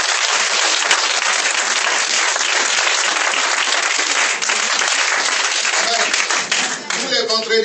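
A church congregation breaks into loud, sustained applause acclaiming Jesus Christ, dense clapping filling the room throughout before tapering near the end.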